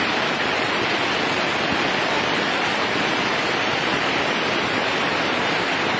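Rushing floodwater from a flash flood in Limboto, Gorontalo, carrying wood, trees and logs, roars as a dense, steady broadband wash that stays loud and continuous throughout, with no talk.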